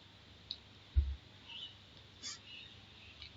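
Computer mouse clicks, a few sharp, close clicks spaced irregularly over a quiet room background, one louder thump among them.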